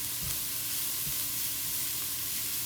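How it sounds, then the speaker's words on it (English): Food sautéing in a pan, an even, continuous sizzle heard close and moderately quiet, with a few soft low bumps from stirring and no voices. "Now I'm just going to saute this for a little while or until it is done"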